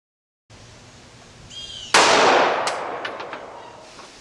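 A single sharp 9mm gunshot cracks from 10 feet into a calibrated block covered with four layers of denim, loud and close, followed by a decaying metallic ring and a few faint clinks.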